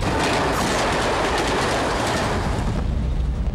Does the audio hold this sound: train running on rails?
yes